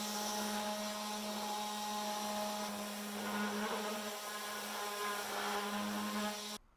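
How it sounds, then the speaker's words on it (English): A cheap shop vacuum runs steadily in a home workshop, a constant droning whine with a low hum underneath, fairly faint, cutting off abruptly right at the end. "I am just using a cheap shop vac."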